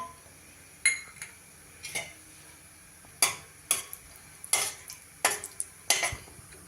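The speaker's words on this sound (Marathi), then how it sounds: "काजू थोडेसे फ्राय करून घेऊया आपण।" Cashews fry in hot oil inside a pressure cooker, with a steady low sizzle broken by a series of sharp metallic clinks and stirring scrapes, close and fairly quiet, no talking.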